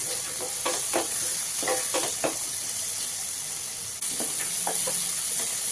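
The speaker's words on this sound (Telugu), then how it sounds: "వేసి బాగా అడుగంటకుండా ఫ్రై చేయండి." Spices frying in a pan for poha, a steady bright sizzle with intermittent scraping stirs of a spoon against the pan, close and constant with no voices.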